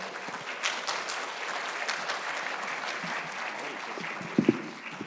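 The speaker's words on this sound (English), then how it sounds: "A round of applause, everyone." An audience at a career day event applauds to welcome the chairman for opening remarks, with even, moderate clapping and a few sharper claps near the close.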